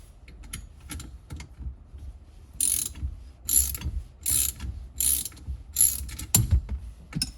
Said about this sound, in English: I need to loosen that nut in there further